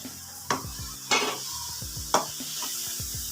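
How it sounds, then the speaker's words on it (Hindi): Spinach is stir-fried in a pan over a medium flame with a steady sizzle, and a spoon scrapes and clatters against the pan in a few distinct strokes. "5 मिनट हम ऐसे इसकी बुनाई करते रहेंगे दरमियानी आंच पे।"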